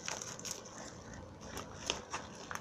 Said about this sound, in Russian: Даже ножницы ее не берут.